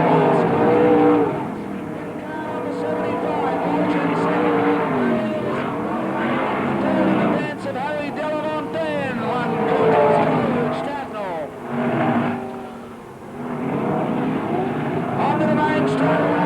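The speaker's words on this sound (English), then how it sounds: "Walsh losing some ground momentarily as he drifts wide down the back section" Sprintcars race on a dirt speedway, their engines droning and rising and falling beneath continuous excited commentary.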